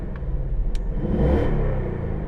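A 2024.5 Ford Mustang GT Fastback 5.0L V8 engine, warmed up, revs with a deep rumble, rising briefly and settling back, loud and close with a steady idle underneath.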